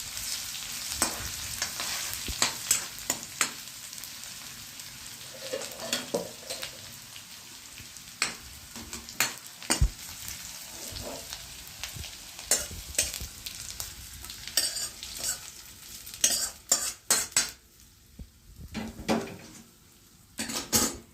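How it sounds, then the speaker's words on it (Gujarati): Garlic sizzles steadily in hot oil while a spoon scrapes and clinks against the pan in bursts, close up and without talking. "હવે હું આમાં છે ને આ લસણ નાખું છું"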